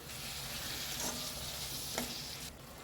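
Quiet sizzling in a pan with a couple of soft scraping strokes as a spoon stirs salt into radish greens cooked with gram flour, low and continuous.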